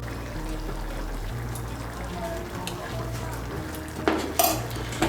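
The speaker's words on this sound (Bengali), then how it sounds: "গরম মশলার গুঁড়োটাকে ভালো করে মিশিয়ে নেব।" Flattened rice (chire) stirred with garam masala powder in a pan, a scraping and rustling of the spoon against metal, ending in a few louder clinks, with faint background sounds.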